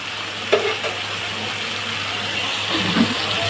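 Bottle gourd peel fries in a pan with a steady, close sizzle, broken by a couple of brief scraping clatters as it is stirred.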